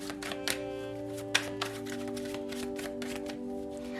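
Tarot cards are shuffled in quick, papery flicks and riffles, with a few sharper taps, over a steady humming tone in the background.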